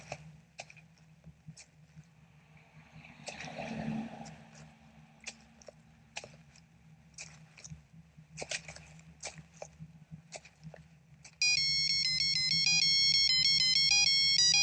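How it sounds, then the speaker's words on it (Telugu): A mobile phone rings with a loud, bright melodic tone that starts abruptly in the last few seconds, after quiet clicks and rustles. "Ring tone sir. Ring tone."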